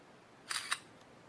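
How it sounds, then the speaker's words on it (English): A Samsung phone camera fires its simulated shutter, a short two-part click burst heard close and alone against a quiet background. "Press the shutter button again, get it to go back."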